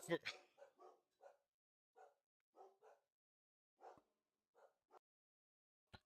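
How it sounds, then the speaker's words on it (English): Several dogs bark in short sharp bursts, a dozen or so yaps spread irregularly over a few seconds at moderate distance, with a person talking nearby. "dogs are barking."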